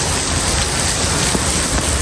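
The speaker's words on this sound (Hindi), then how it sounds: "बढ़िया बारिश हो रही है, बहुत तेज भीगने वाली।" Heavy rain pours down steadily and loudly, a dense unbroken hiss of drops with a low rumble beneath it and no voices.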